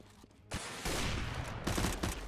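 UMP45 submachine gun fire in a shooter video game, rapid loud bursts of automatic shots rattling close by with a brief gap between volleys.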